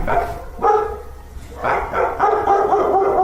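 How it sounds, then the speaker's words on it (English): Several dogs bark from inside a building in a quick run of loud, fairly close woofs and yips, broken by brief gaps, with no talking over them. "more dogs still barking from inside, so they proceed with caution."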